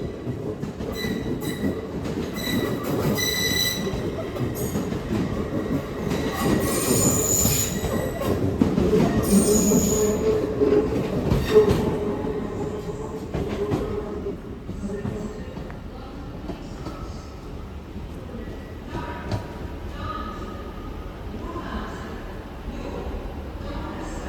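An LNER Class 803 electric train at Newcastle station, departing for London King's Cross: loud, steady rolling and rumble with wheel squeal and clatter, swelling midway then easing as it moves off.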